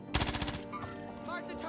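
Rapid bursts of automatic gunfire from a PPSH-41 submachine gun in Call of Duty Warzone, loud and close for about half a second, followed by quieter game sounds and a voice.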